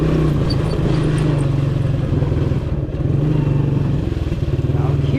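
A 1984 Suzuki LT185 ATV engine runs while being ridden through mud, a loud, close, rapid single-cylinder putter that holds steady and then dips and picks back up briefly midway.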